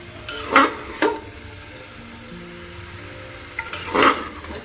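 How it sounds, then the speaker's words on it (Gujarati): Carrots and beetroot sautéing in ghee in a pot over a full gas flame, with a steady soft sizzle broken by a few sharp scraping stirs near the start and again near the end, no voices. "અને હવે એની અંદર આ ગાજરને હું સાંતળી લઈશ ગાજર અને બીટ બંનેને"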